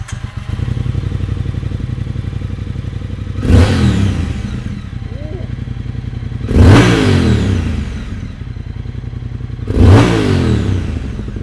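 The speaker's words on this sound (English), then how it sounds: "have a little listen to the 2021 Triumph Speed Twin" A 2021 Triumph Speed Twin parallel-twin motorcycle idles with a steady, close throb, then is blipped three times into loud, short revs that fall back to idle, no talk.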